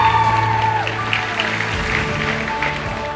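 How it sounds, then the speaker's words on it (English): Applause for class speaker Ernesto Calumpang at a West Coast University nursing pinning ceremony, a full audience clapping steadily and fairly loudly, with a sustained low tone that drops out partway through. "Give another round of applause for our class speaker, Ernesto Calumpang"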